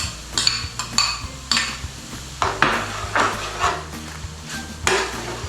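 Mango pulp going into a chicken curry in a pan, heard as a series of close metallic clanks and scrapes of a spoon against the pan in an uneven rhythm over a low background hum.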